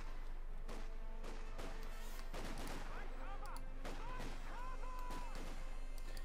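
Mortar fire in the Company of Heroes 2 strategy game, a string of sharp distant blasts and crashes spread unevenly over a low battlefield rumble, with faint whistling tones between them and a voice commentating throughout.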